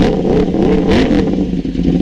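2022 BMW S1000R motorcycle engine running loud and close, rising and falling revs over a clattering idle, no voices.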